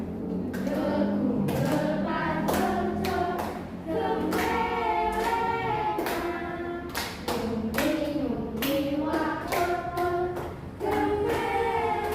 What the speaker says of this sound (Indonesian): tepuk tangan. Jadi ya, sama-sama 1, 2, 3.